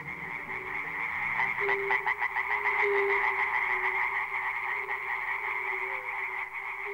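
Chorus of frogs and toads croaking near a river, a dense, continuous pulsing trill that stays steady and fairly distant, with no voices.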